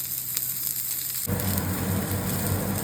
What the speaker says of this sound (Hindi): घी थोड़ा थोड़ा मैंने डाल दिया इसमें, और अब साइड करके थोड़ा सा इसको सेकेंगे, शैलो फ्राई टाइप्स